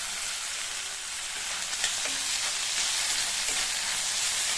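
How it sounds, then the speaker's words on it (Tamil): Cut tomatoes and a small piece of tamarind sautéing in a pan for a mint chutney, giving a steady, close, even sizzle throughout with faint stirring and no voices. "ஒரு மீடியம் சைஸ் தக்காளி அல்லது 2 சின்ன தக்காளியாக இந்த மாதிரி கட் பண்ணி சேர்த்துட்டு, கூடவே ஒரு சின்ன பீஸ் புளியையும் சேர்த்து வதக்கிக்கங்க."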